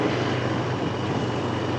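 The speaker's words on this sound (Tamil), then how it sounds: "இதுதான் இன்ஜின் பிரேக்கிங்" A vehicle's engine brakes while it rolls downhill, a steady, loud, droning roar that holds at an even level throughout with no speech.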